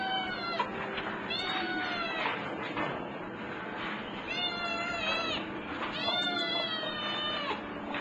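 A young cat meows repeatedly in drawn-out, wavering cries with a few louder, yowling calls near the end, heard close up over steady background noise.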